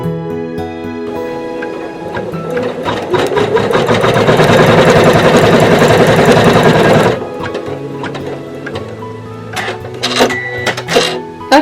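An embroidery machine stitches black thread for an Easter bunny's eyes, loud and close, with a rapid rhythmic needle chatter that builds to a dense run and then gives way to scattered mechanical clicks and clunks.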